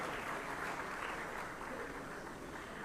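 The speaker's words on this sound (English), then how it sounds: "Can we please applaud for him as well?" An audience applauds a guest on a ministerial conference panel at APIC 2023, a dense, even wash of clapping that stays fairly faint and continuous throughout.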